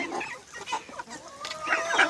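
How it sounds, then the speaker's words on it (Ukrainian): An Australorp rooster crows nearby, a drawn-out call that rises toward the end, with faint clucking from other poultry around it and no talk. "Ось воно, півника стрелор співає, дивіться."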